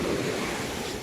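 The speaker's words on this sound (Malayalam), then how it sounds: "തിരമാലകൾ" Sea waves at Chaliyam beach wash in as a steady, loud roar of surf, with wind buffeting the microphone and no voices over it.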